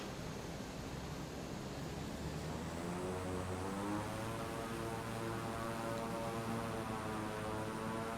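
Airplane taking off from LaGuardia Airport in Microsoft Flight Simulator 2020, a steady engine and propeller drone with a rising whine and growing rush of air noise, faint and continuous with no talking.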